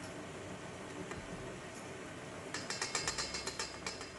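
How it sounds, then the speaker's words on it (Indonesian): Electric mixer kneading bread dough for orange-peel-textured pao buns at slow speed, running as a steady whirring hum that turns into a quick series of rhythmic mechanical clicks and knocks in its second half. "Mixer lagi selama kurang lebih 15 menit dengan kecepatan yang perlahan sampai ke sedang."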